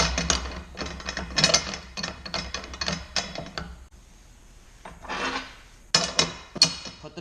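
A manual tube bender works steel tubing for a pre-runner style front bumper on a 4x4. Close metallic ratcheting clicks and grinding clacks come in rapid clusters, with a short lull before a few sharper knocks.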